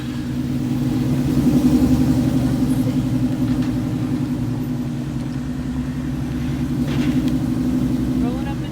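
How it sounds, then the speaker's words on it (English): Cadillac Escalade cruising on a road, a steady low engine and tyre rumble inside the cabin, swelling slightly at times, with people talking over it. "We're cruising the Escalade."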